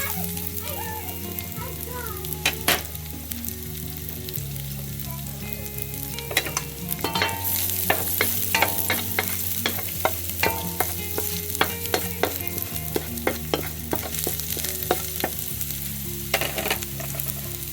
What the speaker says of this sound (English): we got our grease hot, so we are just going to put our